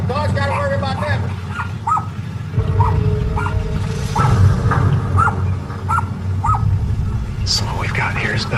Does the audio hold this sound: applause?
no